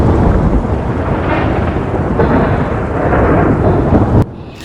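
A heavy thunderstorm: a loud, continuous rumble of thunder over dense pouring rain, swelling in intensity before it cuts off abruptly near the end.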